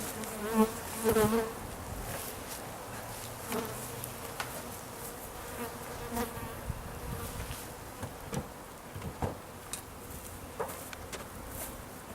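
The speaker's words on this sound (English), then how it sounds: "we're going to leave the bees alone" A steady hum of many honeybees buzzing close by at a top bar hive, with individual insects droning past louder now and then over the continuous swarm.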